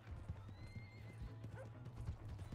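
Horse hooves clip-clop steadily at a walking pace in the Red Dead Redemption video game, close and fairly loud, with a brief whinny and faint background sounds.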